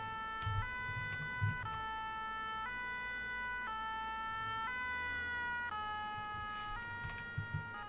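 Wailing fire engine siren from the video game ARMA, a steady two-tone alternation rising and falling about once a second, moderately loud and continuous with low rumbling background noise.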